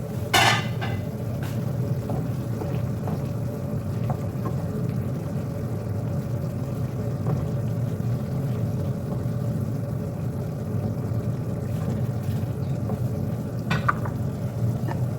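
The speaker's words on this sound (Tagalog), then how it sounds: "Cover and simmer." Chicken asado simmers in a covered pan with water, producing a constant low bubbling sizzle under a steady hum, with a brief clatter near the start and faint clinks later.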